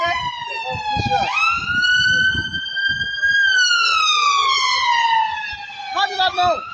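An ambulance siren wails loud and close as it passes, its rising and falling tone sweeping downward as it moves away, with brief street noise and voices at the start and end.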